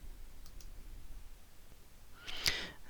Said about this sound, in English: And then click Yes to confirm